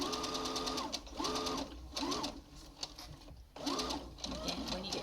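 A sewing machine stitches a cloth face mask in short, close, regular bursts of motor whir, pausing briefly between runs as the fabric is handled.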